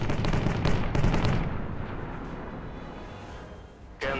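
A loud, heavy Soviet tank cannon blast in a real-time strategy video game rolls into a long fading rumble, followed by a second sharp burst at the very end.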